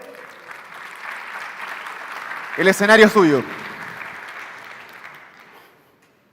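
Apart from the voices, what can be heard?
applause for the speaker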